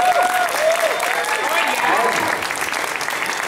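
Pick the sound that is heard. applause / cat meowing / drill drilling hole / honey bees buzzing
applause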